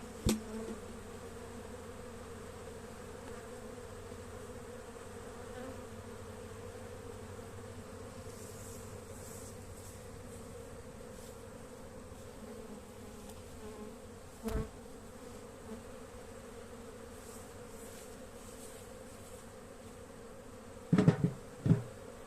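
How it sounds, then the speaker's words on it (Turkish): Honeybees hum in a steady, continuous drone around a hive during a hive transfer, with a few brief knocks and rustles near the start, middle and end. "Görüldüğü gibi orada arılar birikti."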